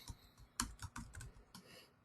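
Computer keyboard typing, a quick run of close, light key clicks in an uneven rhythm, with no one talking.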